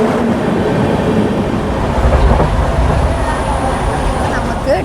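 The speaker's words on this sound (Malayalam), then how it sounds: "നമുക്ക് ട്രെയിനിൽ കയറി സീറ്റൊക്കെ കിട്ടിയിട്ടുണ്ട് കേട്ടോ." Inside a moving passenger train: a continuous low rumble and rattle of the carriage that holds steady and loud throughout, with faint track clatter beneath it.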